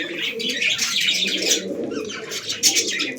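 An old male Madrazi pigeon coos close by amid a busy loft, with bright chirps and twittering from other birds layered over the low, continuous murmur of cooing throughout.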